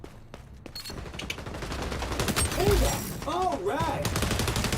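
Rapid, continuous automatic gunfire fills a match of the video game XDefiant with dense, steady shooting throughout. A voice speaks briefly over the shots.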